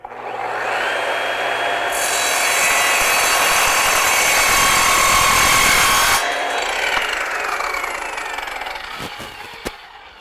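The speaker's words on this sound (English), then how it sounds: "the cold saw, and let's just cut right" A cold saw cuts through welded aluminum with a harsh, loud grinding screech that swells for several seconds mid-cut, over a continuous motor whir that winds down afterward.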